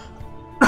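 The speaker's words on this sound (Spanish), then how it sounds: "ya de toser me duele" A single sharp cough bursts out loud and close after a stretch of quiet background, from someone whose throat and chest are sore from coughing during a live gaming tournament stream.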